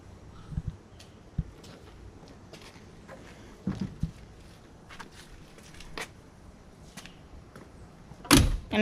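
Several dull knocks and thumps from the door of a 1964 Plymouth Belvedere being handled, ending in a loud, solid slam near the end, with faint rustling between.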